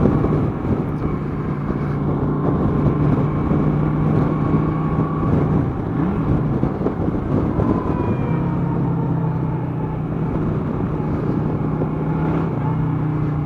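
A 2009 Honda Shadow motorcycle engine drones steadily while riding, a low continuous rumble with some wind noise throughout and slight pitch shifts as speed changes.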